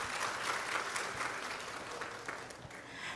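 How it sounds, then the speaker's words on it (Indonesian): Audience at a one-day seminar in Palu applauding steadily, a dense wash of clapping hands that holds evenly for about three seconds. "tepuk tangan untuk teman-teman semua."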